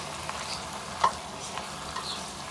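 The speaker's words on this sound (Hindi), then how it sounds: "इसको भून लेते हैं 1 से 2 मिनट।" Chopped onions, tomatoes and green chilies fry in a pan for a street-style kata kat, giving a soft, steady sizzle with a brief stirring scrape near the middle.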